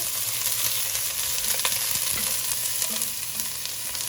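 Onions sizzle loudly and constantly in a very hot pot on the stove as the base of a mussel sauce, with a dense crackling hiss and occasional faint knocks. No talking.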